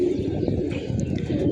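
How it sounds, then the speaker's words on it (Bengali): Pigeons coo and chirp close by as a flock takes off, wings and soft calls blending into a continuous low murmur over a short moment. "এখানে আমাদের জলিল ভাইয়ের কিছু কবুতর উঠতেছে"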